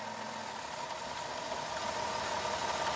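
A car engine idles steadily with a low, continuous hum and faint vibration, no voices, holding the same level throughout, while cleaning chemical is fed into its intake.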